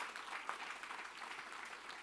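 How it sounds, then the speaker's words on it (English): Audience applause at a tech community conference's closing session, a steady, diffuse wash of clapping from a crowd that holds at an even level throughout. "Another round of applause for them"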